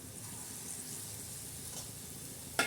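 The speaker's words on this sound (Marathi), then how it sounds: "आता ते गुलगुले म्हणजे गोड भजे असे मस्त अशा तळत आहे" Gulgule, sweet wheat flour and jaggery fritters, frying in hot oil, a soft continuous sizzle and bubbling heard close up, ending with a brief sharp clink of a utensil.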